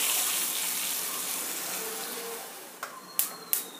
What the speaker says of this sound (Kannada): ಎರಡು ಬಟ್ಲು ನೀರು.